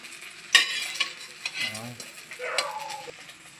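Eggplant frying in oil in a home kitchen, a steady close sizzle with stirring clatters, a sharp clink near the start and soft tonal squeaks midway.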